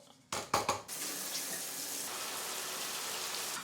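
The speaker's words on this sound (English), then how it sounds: "I'm gonna give it a thorough water" Water running steadily while a houseplant gets a thorough watering, a few close knocks at the start, then an even splashing stream that keeps going to the end.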